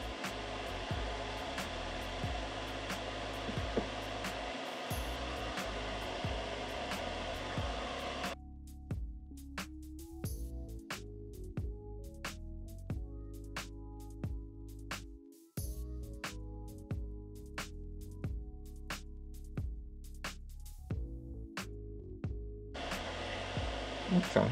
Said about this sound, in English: Please pardon the fume extractor.